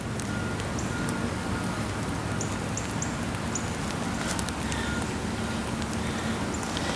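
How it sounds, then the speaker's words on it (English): Rain falls on a muddy, rutted garden as a steady, dense hiss of patter at moderate loudness, with a few faint beeping tones in the distance and no voices. "It's still raining."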